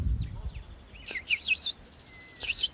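Juvenile blackbirds give thin, high location and begging calls: a few short chirps in quick bursts, then a pause and another pair of calls, moderately close over quiet outdoor background.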